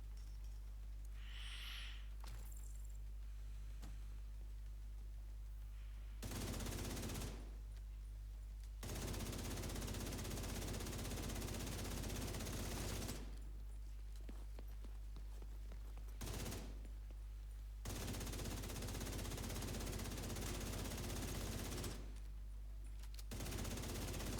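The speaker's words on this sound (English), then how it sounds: "Now I'm crazy shooting at my decoy." Gunfire in the shooter The Division 2 on a master-difficulty solo manhunt mission, dense sustained rapid shooting in long stretches that cut off abruptly into brief quiet gaps, then resume, loud and close.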